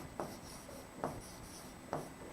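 Handwriting strokes during a biology lesson, three distinct scratchy bursts of chalk or pen on a board spaced about a second apart, fairly close and clear with no talking over them.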